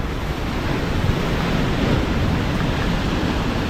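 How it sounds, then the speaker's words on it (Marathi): Big waves on a stormy sea roaring in a dense, continuous wash, loud and close with wind rumble on the microphone and no voices. "एवढ्या मोठ्या मोठ्या लाटा"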